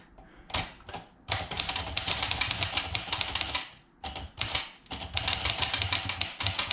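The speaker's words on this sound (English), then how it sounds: "So as I was typing on it, it would stop moving across." An old typewriter with sticky keys and a sticking carriage clacks in fast, dense bursts of keystrokes, loud and close, with two brief pauses between runs.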